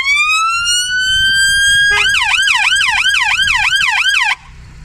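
A loud, close police car siren rises in a long steady wail, then switches to a fast repeating yelp for a few seconds before cutting off abruptly, with engine rumble beneath.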